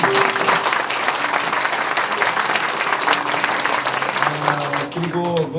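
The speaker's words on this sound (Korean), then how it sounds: "바깥에 예배 드리시는 분들 좀 박수 한번 보냈으면 좋겠습니다" A congregation at a church prayer-retreat anniversary worship service gives sustained, dense applause, steady from start to finish, with a voice rising near the end.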